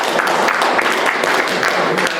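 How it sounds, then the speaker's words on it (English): A meeting audience in Arthur's Pass gives a short round of steady applause, even clapping from a small group heard close throughout. "It looks like a round of applause for Mary."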